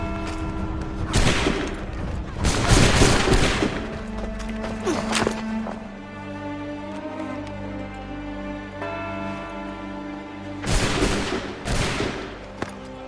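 A loud volley of musket gunfire rings out in Assassin's Creed 3 Remastered, with heavy bursts at the start, a ringing tail, then another burst near the end, all without speech.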